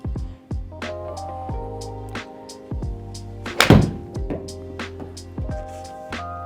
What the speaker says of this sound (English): I'm gonna hit a knockdown pitching wedge.